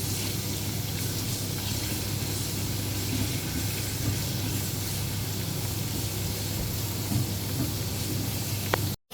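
Ginger garlic paste frying in hot oil while red beans are being prepared: a steady, close hiss and crackle holding even for the whole stretch, with no talk, then cutting off sharply at the end.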